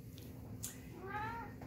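A human voice imitates a single short, rising cat meow while reading a children's farm story aloud. The meow is fairly faint over a low background hum.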